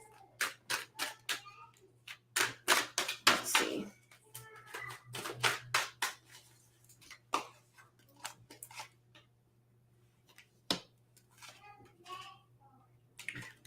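Playing cards being shuffled by hand, a run of crisp riffling bursts and taps, close and fairly quiet, with soft talk in between.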